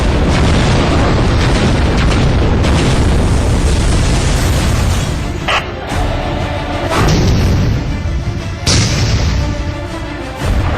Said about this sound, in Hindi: पहले देखिए जब ये बम गिरते हैं तो कैसे तबाही मचाते हैं